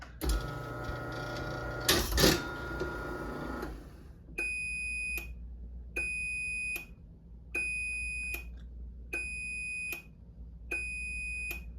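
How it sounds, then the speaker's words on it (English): A Chamberlain B550 garage door opener's loud mechanical whir and clatter stops, then five evenly spaced electronic beeps sound one after another, each lasting under a second. "the opener will beep 5 times while the lights blink"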